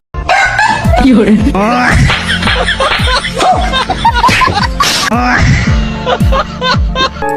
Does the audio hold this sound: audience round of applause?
no